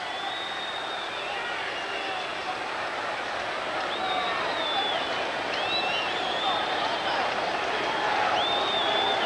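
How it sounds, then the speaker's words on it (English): A very noisy stadium crowd at a 1989 Cleveland Browns at Miami Dolphins football game roars in a loud, continuous wash of cheering that swells slightly toward the end. "Crowd very, very noisy."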